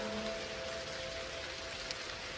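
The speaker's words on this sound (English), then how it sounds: "The raindrops are gently dancing on the exterior of your pod." Rain patters softly and evenly on the exterior of a pod, a faint continuous hiss of droplets with a steady low tone running underneath.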